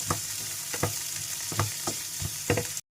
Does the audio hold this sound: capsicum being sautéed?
yes